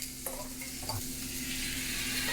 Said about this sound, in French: Là, en même temps qu'on rajoute la sauce, on vient mélanger.